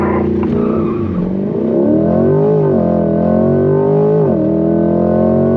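C8 Corvette engine revving hard at full throttle against the brake at a performance driving school, then launching, loud and close, pitch climbing through a gear change with a steady roar throughout.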